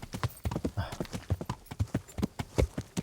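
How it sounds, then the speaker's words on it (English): Horse hooves clip-clop in a steady, quick rhythm in the video game Kingdom Come: Deliverance, a continuous run of sharp hoof strikes at moderate volume. "The horses."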